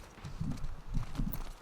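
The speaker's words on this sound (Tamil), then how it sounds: "குதிரை இருக்குது." Horse hooves clip-clop in a steady walking rhythm within the video game The Last of Us Part II, moderately close and mid-level in loudness.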